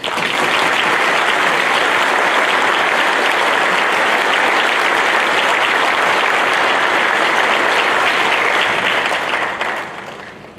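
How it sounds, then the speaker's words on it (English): Loud, sustained applause from a large crowd at a graduation ceremony, dense and even for about ten seconds before tapering off at the end. "just give them a round of applause"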